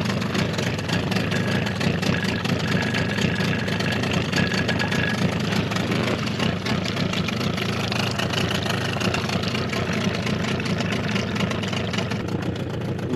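A Suzuki DT 9.9 outboard boat motor idles just after starting, a steady mid-pitched putter running continuously at close range with its revs wandering slightly, against some outdoor background noise.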